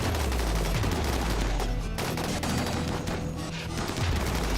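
Gunfire in the colony-building game RimWorld, a dense, continuous volley of overlapping shots that stays loud throughout with only a brief dip, as if several guns fire at once.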